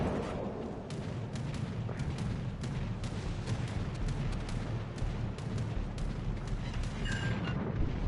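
Naval gunfire in a battleship video game, with repeated booming shots from a cruiser engagement over a dense rumbling battle bed, moderately loud and continuous with no talking.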